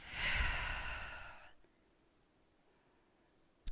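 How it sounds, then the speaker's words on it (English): One deep, audible breath during a gentle Pilates stretch, a close breathy sigh of about a second and a half followed by near silence. "Deep breath."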